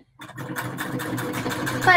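A foot-pedal sewing machine runs steadily after a short silent start, a continuous even mechanical whir with rapid stitching rhythm, fairly close and alone, rising slightly at the end.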